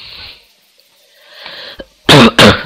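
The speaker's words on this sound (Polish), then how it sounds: "przepraszam za to, że kaszle" Two loud, close coughs in quick succession from a man who is ill, following a quiet stretch with faint background sound.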